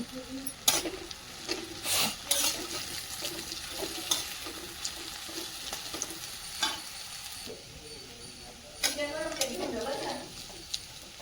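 Bitter gourd slices being sautéed with peanut chutney and a little garam masala, a close pan sizzle broken by several sharp scraping stirs of a spatula, with some quieter stretches between.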